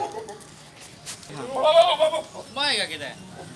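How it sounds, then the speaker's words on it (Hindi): Goats bleat loudly and close by among young stock, two quavering calls in a row against quiet background noise. "ये बकरी है"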